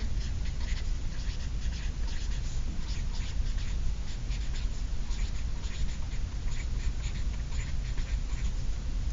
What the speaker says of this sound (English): So write that at the top of your paper.